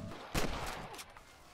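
Gunfire in the Red Dead Redemption video game during a canyon shootout, with one loud, close burst of shots followed by a few fainter reports trailing off.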